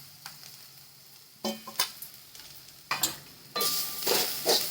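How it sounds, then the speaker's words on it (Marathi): Onion, coconut, garlic and ginger roasting in a pan, quiet crackling punctuated by scraping stirs of a utensil, building to a louder sizzle toward the end, close up and without talking. "कांदा डालते खोबरं टाकते भाजायला लसूण आणि अद्रक आणि थोडे कडीपत्त्याचे पानं पण टाकते"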